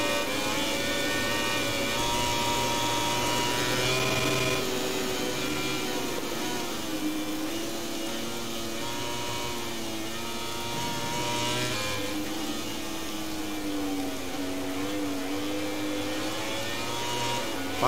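A motorcycle engine revs and drones steadily in the MotoGP 20 racing game, its pitch rising and falling with the throttle through the whole stretch, loud and continuous, with no talking.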